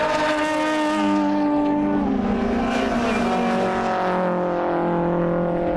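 A BMW 2002 and a Lotus Cortina race closely through a corner at a WA Sporting Car Club event, engines droning loud and steady with shifting pitch as they jostle, continuous for the whole stretch with no voices.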